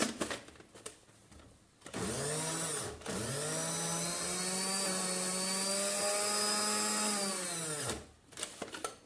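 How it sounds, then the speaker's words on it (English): A blender blending sesame seed soup whirs loudly and steadily for several seconds, its motor pitch winding up after a short start, then cuts off to quiet clinks. "Don't blow up your blender."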